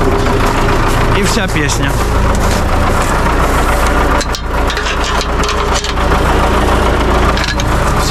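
A diesel tractor engine idles with a low, rough rumble while a person talks over it close by.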